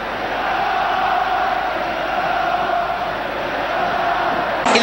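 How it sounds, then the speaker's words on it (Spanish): Basketball arena crowd roaring and applauding Marcelo Milanesio during free throws in his final game, a loud, dense and sustained wall of cheering that holds steady throughout. "El aplauso es para él."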